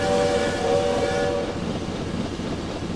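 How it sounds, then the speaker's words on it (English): Two-tone American-style steam locomotive whistle in Train Simulator 2018, mounted on the side of the dome, giving a short chord-like blast over steady rumbling engine noise that fades as the whistle stops. "That's a lovely two-tone American-style whistle which sits on the side of the dome, doesn't it?"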